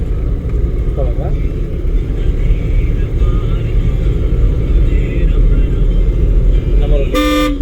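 A car rolls steadily along a road during a driving lesson, with a constant engine and road rumble throughout, a brief horn toot near the end, and people talking over it.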